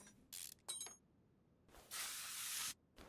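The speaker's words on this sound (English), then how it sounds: "Let's spray it." In Car Mechanic Simulator 2021, a spray can hisses onto a rusted upper suspension arm: two short quiet bursts, then a longer steady spray, with silence between.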